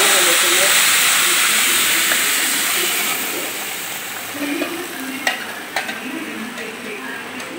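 Onion, tomato and ginger-garlic paste hit hot oil with a loud, bright sizzle that slowly settles, followed by a few scraping stirs and clinks of a spoon against the pan.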